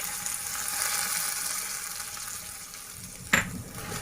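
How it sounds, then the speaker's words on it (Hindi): A steady, fairly loud sizzle of hot ghee meeting milk zarda rice, ending in a sharp splashing burst as more is poured in near the end. "और उसके बाद मैं इसमें गरम घी शामिल कर रही हूँ"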